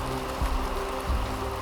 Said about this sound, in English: It is raining like crazy.